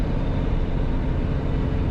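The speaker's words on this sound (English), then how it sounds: "the jakes on this truck is way better" A heavy truck's engine brake rumbles loud and close in a steady, continuous low roar that fills the whole stretch without a break.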